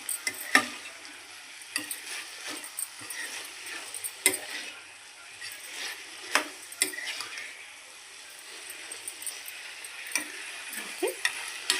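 Vegetables frying in oil, a faint continuous sizzle under scattered sharp clicks and scrapes of stirring that come at irregular intervals throughout.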